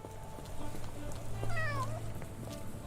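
A cat in the video game Sherlock Holmes The Awakened gives a single clear meow midway through, set against steady low in-game ambience.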